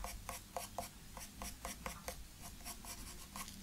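A soft 8B pencil shades dark areas on paper for a rabbit drawing, giving quiet, regular scratchy back-and-forth strokes, close and faint, about a dozen in steady rhythm with no talk.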